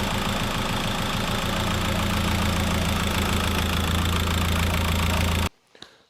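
A VW Caddy PD130 diesel idles close up after an oil change, a steady loud rhythmic clatter that cuts off abruptly near the end, leaving a few faint knocks.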